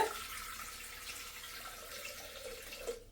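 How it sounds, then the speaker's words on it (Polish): Water pours steadily into a Thermomix bowl, 500 grams measured out while cooking Königsberg meatballs, a continuous close splashing rush that runs for about three seconds and cuts off abruptly, with no talking. "teraz wlewamy do naczynia 500 gramów wody"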